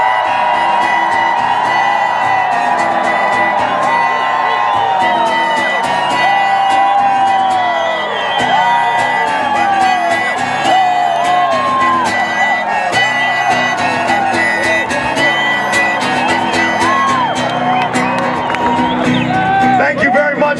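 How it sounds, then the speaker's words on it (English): A crowd at an Occupy Chicago protest gathering shouts and whoops steadily throughout a loud live performance with a harmonica solo, the cheering blended with the music. "when the awesome harmonica solo starts, I want everybody in the place to scream your lungs out."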